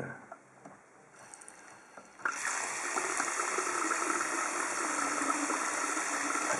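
Hot water poured steadily from a kettle into a container, a continuous splashing, trickling stream that starts quietly and then swells abruptly into a loud, broad rush, close and without talk.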